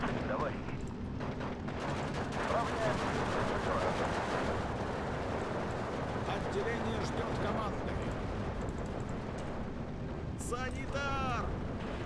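Artillery and gunfire in the strategy game Steel Division 2 during a Finnish battle: a dense, continuous rumble of shelling with scattered cracks of shots, sustained throughout at a fairly loud level.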